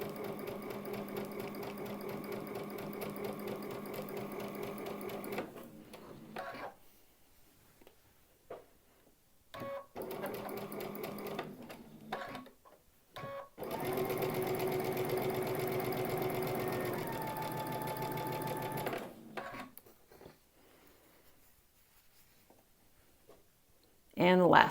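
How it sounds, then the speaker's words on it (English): Sewing machine stitching quilt block units in a continuous chain without cutting the thread between pieces, steady runs of rapid stitching broken by short pauses, with a voice talking in between. "this is called chain piecing, where I'm continuing to feed units through without cutting the thread"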